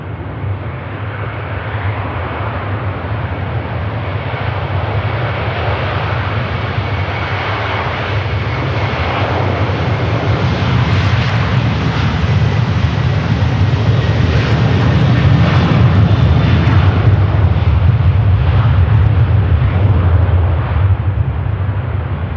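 A large airliner takes off from Manchester Airport, its engines roaring loud and steady for over twenty seconds and swelling slightly as it climbs, with no voices.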